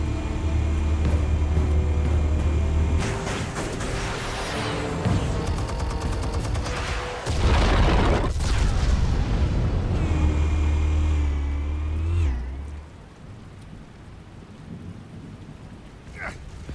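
Explosives go off in the Batman Telltale Series game, heavy booming rumbles with crackling debris rolling through repeated loud blasts, then the noise drops away to a quieter tail.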